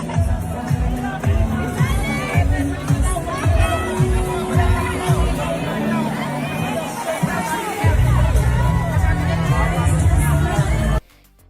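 A dense crowd bustles around tennis player Alex Eala, with steady hubbub and overlapping chatter, occasional shouts and whoops rising from the throng, close and loud throughout before cutting off abruptly at the end.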